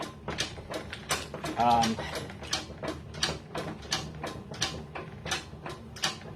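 A potter's treadle wheel creaks and clicks with a regular mechanical rhythm, about two beats per second, while a person talks over it on a rainy afternoon.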